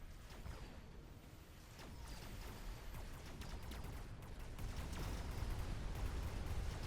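Vulcan unit firing in a real-time strategy game, a rolling series of muffled bursts and rumbling impacts that grows denser and louder over the clip, under low battle ambience.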